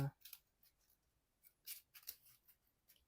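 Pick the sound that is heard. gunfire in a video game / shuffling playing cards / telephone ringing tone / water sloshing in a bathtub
shuffling playing cards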